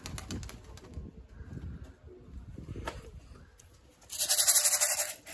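A homing pigeon arrives with faint wingbeats and soft coos, followed by a loud, bright burst of close bird calls near the end.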